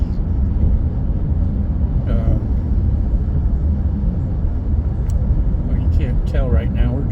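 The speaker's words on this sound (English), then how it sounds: "we're driving through the Badlands" A car drives through the Badlands, its low road rumble and tire noise steady and close inside the cabin, with voices talking over it at moments.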